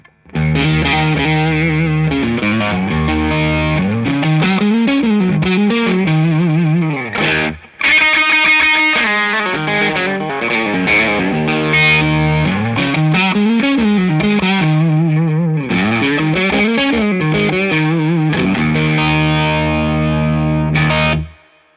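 A single-coil Stratocaster with low-output pickups plays through gain pedals, giving a loud, distorted electric guitar with chorus-like shimmer; rising and falling riffs and chords ring out alone, pausing briefly once before continuing.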